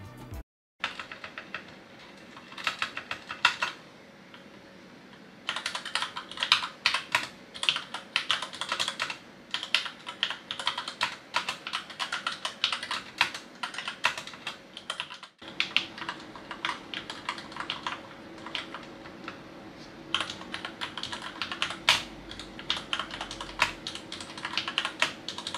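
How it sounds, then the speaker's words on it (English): Steady clattery typing on a mechanical keyboard with lubed switches, fast irregular keystrokes close to the microphone, moderately loud with a brief pause near the middle and no voices. "let's replace the keycaps and do a sound test before and after lubing"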